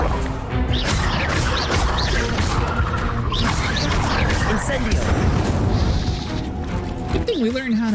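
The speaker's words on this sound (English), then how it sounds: "Incendio!" Casting the Incendio fire spell in Hogwarts Legacy brings loud whooshing, crackling bursts and smashing impacts amid busy combat, with a voice talking and shouting over the effects.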